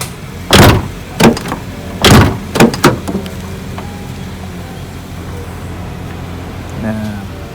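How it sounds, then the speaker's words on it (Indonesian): Door of a 2007 Suzuki Grand Vitara JLX SUV being worked: several loud, close thuds and clunks in a burst, then latch clicks, followed by a quieter mechanical rattle near the end, with a voice speaking. "ini bunyi pintunya yang menurut gua ngeselin."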